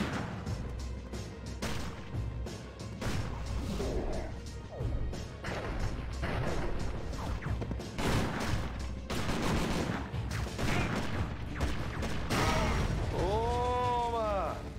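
SMG gunfire in Dead to Rights, rapid bursts of sharp shots and impacts crackling continuously through a noisy action scene, with a voice occasionally heard and a warbling electronic effect near the end.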